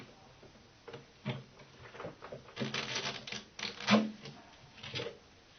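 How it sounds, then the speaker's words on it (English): Clicks, snaps and scraping from an old guitar amplifier's grill cover being pried off, a run of irregular close taps with a few sharper pops. "let me go ahead and pop this grill cover off"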